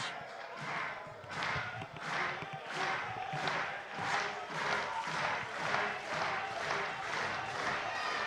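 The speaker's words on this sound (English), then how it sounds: "Fans trying to cheer Kelly along here through this 9th inning" Baseball fans in the stands at an IBL finals game between the Toronto Maple Leafs and London Majors cheer on the pitcher in the ninth inning with steady, rhythmic clapping and crowd noise, heard faintly and from a distance.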